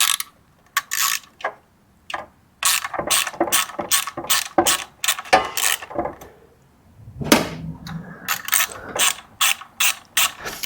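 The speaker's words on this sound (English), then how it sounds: "Let's go grab a little wrench." A small ratchet wrench works on a 20-year-old American winch on a Jeep TJ, giving close, loud bursts of rapid clicking in irregular runs with short pauses, plus a few heavier metallic clunks.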